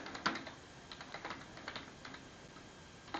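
Python code is typed on a computer keyboard in quick, uneven bursts of light clicking keystrokes, close and fairly quiet, with short pauses between clusters and no talking.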